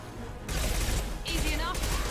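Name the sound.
impact shot gunfire in the video game Mass Effect 2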